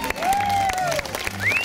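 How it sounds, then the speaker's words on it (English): An audience claps at a show at the Champlain Valley fair, a steady wash of applause under whistle-like tones from the stage. "They're tired of clapping."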